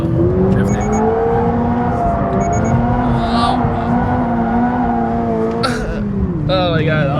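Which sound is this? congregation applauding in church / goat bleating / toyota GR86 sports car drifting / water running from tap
toyota GR86 sports car drifting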